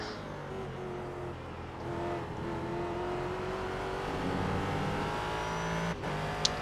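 Engines of race cars in iRacing, among them a Corvette, drone steadily near and at speed, with the pitch rising and falling as one closes in on another, plus a brief click near the end.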